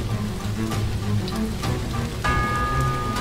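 Steady pouring rain in the video game Fuukan no Grasesta, a dense continuous wash of noise with low rumble beneath and a sustained tonal chime entering partway through.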